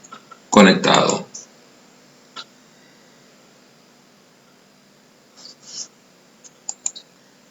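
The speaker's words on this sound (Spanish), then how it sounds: "debemos colocar cuidadosamente esos módulos ejerciendo una pequeña presión que haga clic" RAM memory modules pressed by hand into motherboard slots during a PC build: a loud burst of clicking and rattling at the start, then a few sparse small clicks and taps in a quiet room.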